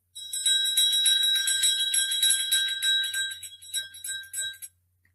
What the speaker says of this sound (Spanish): como el sonido de unas campanillas